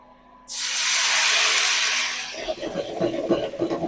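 Wine poured into toasted risotto rice in a hot pan sets off a sudden loud, steady hiss and sizzle that fades into crackling bubbling.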